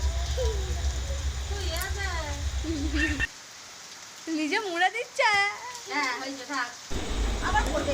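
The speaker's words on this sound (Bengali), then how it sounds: "অনেকদিন পর বৃষ্টি হচ্ছে, বৃষ্টিতে ভিজে খুব মজা পাচ্ছে" Rain falls steadily on a village, a soft hiss of drops that fades briefly in the middle while children's voices and chatter rise over it.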